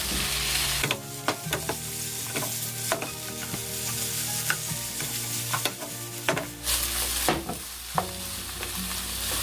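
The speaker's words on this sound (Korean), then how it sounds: "이렇게 중불에서 오랫동안 볶아주십시오" Julienned potatoes stir-fried in a pan over medium heat sizzle steadily, while repeated scraping stirs and clacks of the utensil against the pan punctuate the frying.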